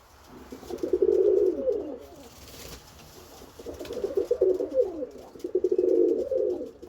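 A pigeon in a breeding box gives low, throaty coos in two rolling bursts with a short pause between, close and clear with no talking.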